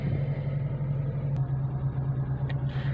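Suzuki Cultus car engine idling on auto choke, a steady low rumbling hum at raised idle, close and even throughout, with a few faint clicks near the end and no talk.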